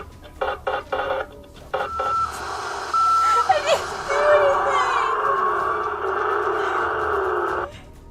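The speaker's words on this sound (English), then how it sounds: "The car's lights are rapidly flashing, and it emits an unusual humming noise." A toy car with flashing lights gives off an odd electronic humming: a few short beeping bursts first, then a sustained buzzing tone that wavers and holds for several seconds before cutting off.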